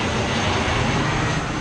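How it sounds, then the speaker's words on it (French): An airplane passes low overhead on a Florida road trip, a loud, steady broadband engine roar filling the whole stretch with no talk. "que les avions te passent au-dessus de la tête comme ça"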